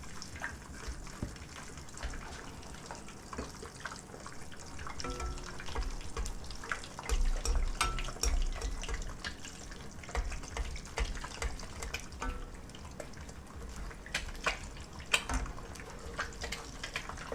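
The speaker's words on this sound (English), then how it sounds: "I like to splash the oil on top so you don't burn your egg and it comes out perfect every time" Eggs fry in hot oil as oil is splashed over their tops, giving a steady crackling sizzle with sharp spitting pops that swell louder partway through.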